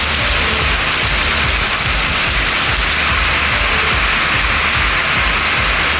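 Heavy rain pours over Kulithalai town in Tamil Nadu, a loud, constant roar of falling water with a steady spattering texture and no let-up or voices.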